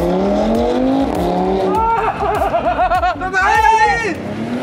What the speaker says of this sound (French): Lulu, j'entends les voitures du concours